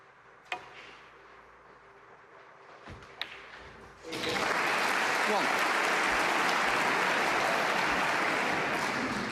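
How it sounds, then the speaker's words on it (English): A couple of sharp clicks in a quiet room, then a snooker audience at the 2024 Northern Ireland Open final bursts into loud, sustained applause that continues steadily to the end. "a big round of applause for that"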